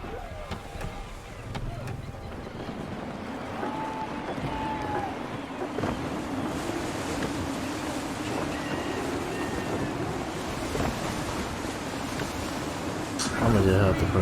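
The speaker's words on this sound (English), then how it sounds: "Wind looks to be shifting. Stay alert, Connor. Gusty winds can be difficult to manage." Gusty wind and surf roar around a sailing ship in Assassin's Creed 3, a continuous loud blustery rush with wave wash, while voices speak over it.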